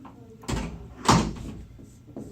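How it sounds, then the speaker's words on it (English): A door is pushed shut indoors, giving two dull thuds about half a second apart, then quieter knocks and movement. "Can you go ahead and close that door, please?"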